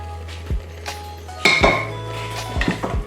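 Clattering metal knocks and clinks of utensils against a pot as fried sausage is added to bigos, a few separate bumps then a busier burst, close by with no talk.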